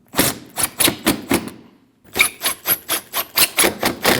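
Bolts on a 2014-2023 Jeep Cherokee active grille shutter are snugged with a ratchet, a close series of sharp rhythmic clicking bursts, pausing briefly before a second quick run.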